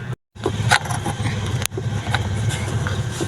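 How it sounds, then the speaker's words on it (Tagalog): A motorcycle engine rumbles steadily nearby, a low continuous drone with a short dropout near the start and a few louder bumps. "Naririnig ko ba yung motor?"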